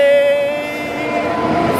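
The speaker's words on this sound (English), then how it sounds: "Trains!" A train travelling from Munich to Graz hums and rumbles steadily, with a brief tonal whine at the start and a continuous rolling drone close by, loud and unbroken.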